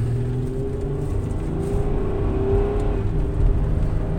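A Honda van engine revving under acceleration as VTEC engages, a close droning motor with a steady whir that climbs in pitch through the middle and then eases off, heard from inside the vehicle.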